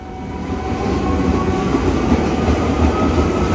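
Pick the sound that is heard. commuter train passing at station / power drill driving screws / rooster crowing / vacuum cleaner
commuter train passing at station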